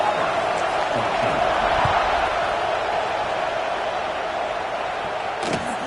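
Football stadium crowd before kickoff, a broad, steady roar of many voices filling the space, holding loud throughout with a few sharper shouts rising out of the mass of noise.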